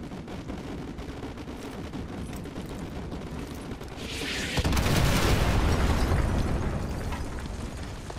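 A heavy artillery strike in the Modern Warfare game lands in a sudden loud boom that rolls into a long, rumbling explosion over steady battlefield noise, with no talk.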